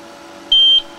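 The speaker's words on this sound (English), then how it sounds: "Let's just see if we can stop the beeping." An APC 3kVA 208V sine-wave UPS gives one sharp, loud, high-pitched alarm beep lasting about a third of a second over a quiet electrical hum.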